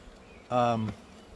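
A single insect buzz close by, likely a bee near a hive where honey bees, mason bees and bumblebees fly around flowering crabapples, a steady harmonic drone lasting under half a second before fading back to quiet.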